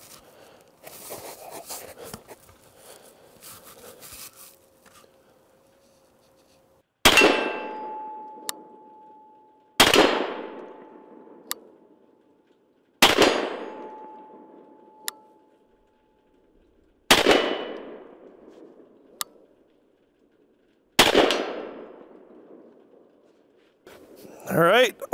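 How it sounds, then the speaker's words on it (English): Two Beretta semi-automatic shotguns, an A300 Ultima Patrol and a 1301 Tactical, fire at steel IPSC targets 50 yards out outdoors: five loud separate blasts, each followed by a faint metallic ring from the steel, after some opening handling noise. "we are going to attempt a 50-yard shot with both shotguns to see where we're at."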